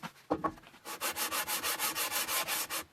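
Rhythmic back-and-forth strokes of hand sanding a John Deere 1010 cylinder head on a flat surface, about thirteen steady even passes, loud and close, after a few brief scrapes at the start, with no talking.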